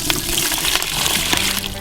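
Hot water pours into the water pan of a Brinkmann Gourmet Electric Smoker, a steady splashing gush close to the microphone that lasts nearly two seconds.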